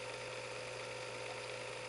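A Visible V8 model engine, freshly run in for four hours, idles quietly with a steady, even mechanical whir and faint rhythmic ticking of its moving parts, continuous and close.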